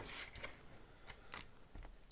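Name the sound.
shuffling board game unit pieces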